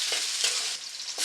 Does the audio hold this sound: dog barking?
no